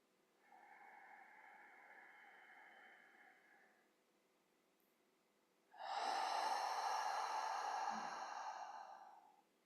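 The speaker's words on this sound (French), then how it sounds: "Soufflez par la bouche." Two slow breaths during a guided gratitude meditation: a soft, gentle exhale, a pause, then a louder, longer breath blown out through the mouth, both close and alone.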